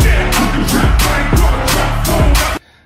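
An excerpt of a song plays as loud, dense electronic music with a pounding, evenly spaced beat, then cuts off sharply near the end.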